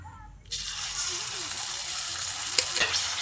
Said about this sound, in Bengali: রসুনটাকে দিয়ে তেলে খানিকক্ষণ ভেজে নেব